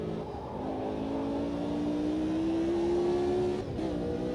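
A formula race car in a racing video game howls past with a steady engine whine that climbs gradually in pitch, then cuts off abruptly near the end.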